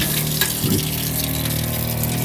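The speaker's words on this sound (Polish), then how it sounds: "W każdym razie odpalimy sobie, odkręcimy wodę." A gas tankless water heater runs while tap water flows, giving a steady rushing hiss of water with a faint low hum underneath, constant and close, with no voices.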